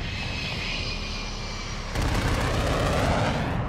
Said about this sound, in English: Oh, I hear airplanes.